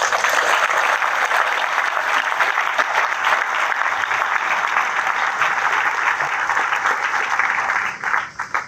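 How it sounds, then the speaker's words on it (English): Sustained applause from a crowd at a military change of command ceremony, a steady dense wash of clapping lasting several seconds before thinning out at the end. "can we please give them a round of applause?"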